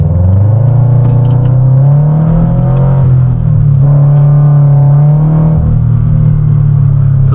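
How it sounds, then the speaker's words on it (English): A modified Subaru BRZ engine with an aftermarket exhaust and new front pipe idles loudly and steadily, deep and throaty, its low exhaust rumble swelling slightly now and then. "My car sounds so good right now too."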